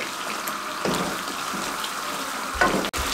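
Aloo baingan curry with garam masala, lemon and green chilies sizzles steadily on a high flame, a constant close hiss with a few scraping stirs and a sharp clatter near the end.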